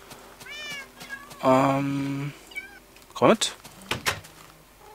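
Several short meows from a Minecraft cat, a red ocelot-type cat in the game, repeating across the moment at close range, with a voice speaking briefly between them.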